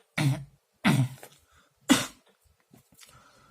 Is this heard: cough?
yes